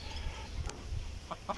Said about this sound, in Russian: Вот они, курочки, которые несут домашнее яичко.